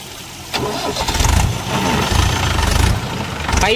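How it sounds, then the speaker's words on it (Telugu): A diesel tractor engine rumbles loudly and steadily close by, its deep continuous drone swelling in a few surges, with no one talking. "మన ట్రాక్టర్ అయితే వెనకాల వస్తుంది, మీకు చూపెడతా"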